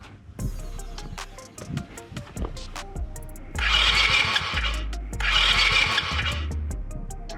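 A pit bike being started after sitting through winter, clicks and brief cranking attempts followed by two loud surges of engine noise, each lasting around a second and a half, close by.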